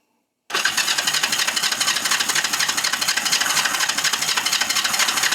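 A Yamaha XS250 motorcycle that seems short of fuel cranks continuously and loudly. The starter keeps churning in a fast, even rhythm without catching.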